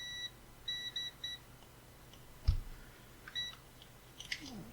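Multimeter in continuity test mode emitting short high beeps, a few quick chirps in clusters against a quiet hum, with light clicks of probes touching contacts on a soldering station controller.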